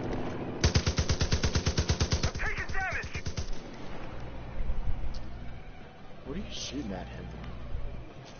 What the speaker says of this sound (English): Now what are you shooting at him with? Oh, M60.